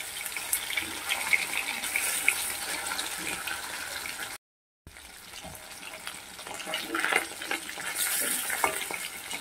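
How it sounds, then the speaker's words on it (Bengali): Hilsa fish pieces fry lightly in oil, crackling and spitting close by with uneven bursts, broken by a short total silence midway before the sizzle resumes. "এবার মাছগুলোকে হালকাভাবে ভেজে নিচ্ছি।"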